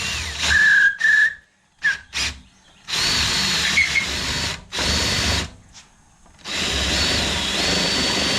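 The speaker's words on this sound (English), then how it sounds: "I'm just drilling through my wood long enough to get a good mark" A power drill whirs through wood in several bursts, starting and stopping repeatedly with brief pauses, loud and close, with a high whining tone at times.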